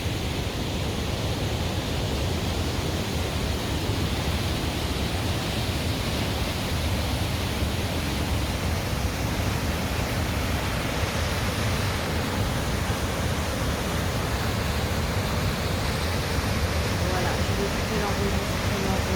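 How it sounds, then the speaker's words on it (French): A waterfall on the Doubs river roars in a dense, unbroken rush of falling water, heard from close by, loud and constant throughout. "L'enregistrement vocal qui va permettre d'entendre le bruit de l'eau."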